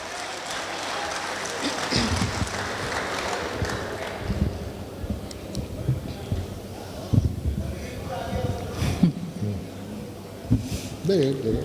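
A mushaira audience at an international Urdu poetry gathering in Muscat, Oman, breaks into loose clapping that swells in uneven waves and then thins, while a voice speaks over part of it.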